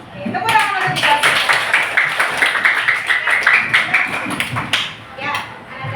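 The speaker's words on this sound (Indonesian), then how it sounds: "Oke, tepuk tangan untuk dikasih." A group claps hands together in a classroom-style session, a steady run of close, crisp claps over about five seconds with voices and chatter mixed underneath.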